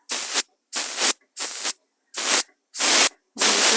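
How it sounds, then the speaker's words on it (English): An airbrush sprays paint in six quick dagger strokes, each a loud, even hiss of roughly half a second, separated by short silences. "When you first start airbrushing, it's just good to keep practicing these dagger strokes."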